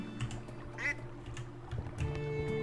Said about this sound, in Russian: Кряк.